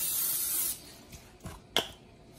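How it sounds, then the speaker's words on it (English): A steady hiss of aerosol cooking spray for under a second, followed by a few faint clicks and light knocks. "we're just going to spray our pan with pan spray"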